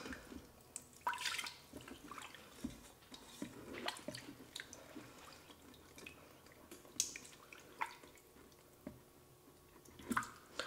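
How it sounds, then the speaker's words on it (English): A utensil scrapes the bottom of a Ninja Foodi pot after chicken stock is poured in. Faint, wet squishing scrapes and small liquid drips recur irregularly at close range, quiet throughout with no talking. "I'm gonna scrape around just to get anything that's on the bottom loosened"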